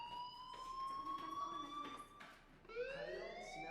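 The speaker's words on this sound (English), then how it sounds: "do you hear that fire alarm?" A fire alarm rings in the video game Life is Strange, a sustained electronic wail with repeated pulsing tones that restart partway through, moderately loud and heard alone.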